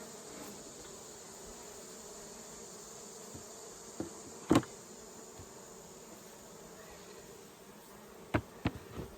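Honey bees buzz steadily in a low continuous drone during a sourwood honey harvest from a hive, with a few sharp knocks and clicks breaking through close by.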